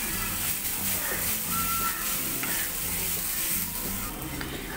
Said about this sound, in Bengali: দুই মিনিট নারকেল নাড়াচাড়া করে নেব।